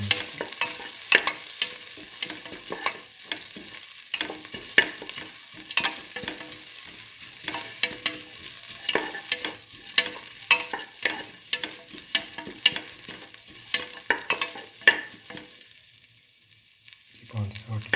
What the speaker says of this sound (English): Keep on sauteing.